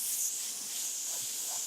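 A spray paint can hisses in one steady, close blast as freehand stencil-style spraying clears overspray on a canvas a few centimetres away.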